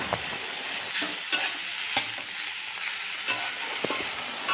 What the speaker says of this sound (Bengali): ঢাকনাটা তুলে একটু নেড়ে দেব